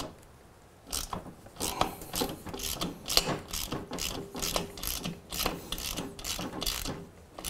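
A hand ratchet loosens 10 mm bolts on the rear end of a Suzuki GSX-R750, clicking in rapid rhythmic bursts with short pauses between strokes. It sounds close and moderately loud with no talk.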